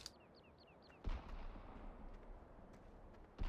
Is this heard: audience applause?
no